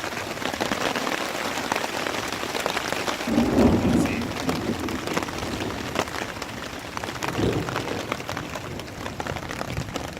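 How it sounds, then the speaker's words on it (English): Steady heavy rain pours down on a lakeshore campsite in Ontario during a storm, with a low rumble of thunder swelling briefly midway through the constant hiss. "We're definitely getting a storm."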